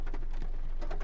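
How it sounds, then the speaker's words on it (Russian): Heavy rain pouring onto a roof, a soft close patter of dense drops with uneven pulses, short and fairly quiet, no voices. "А дождь вовсю. По крыше льет."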